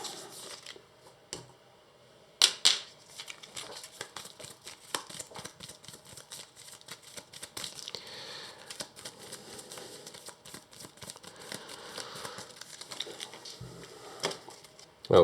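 Playing cards for the Arkham Horror card game shuffled close by, a long run of fast crisp riffles and flicks with short pauses, no talking.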